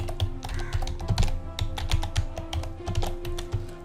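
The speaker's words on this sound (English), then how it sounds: "So typing the password and" Quick, uneven keystrokes clatter on a computer keyboard, close and fairly loud, with no one speaking.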